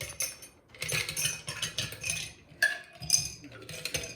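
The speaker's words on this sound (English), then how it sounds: "And then we stir it down to a nice chill temperature" A cocktail stirred over plenty of ice with a bar spoon, heard as a steady close jangle and clink of ice cubes against the glass in rapid bursts, with a brief pause midway.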